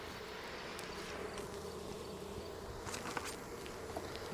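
Honeybees hum around an open hive during fall feeding, a soft, steady buzzing swarm heard close but faint, with a few light knocks and rustles.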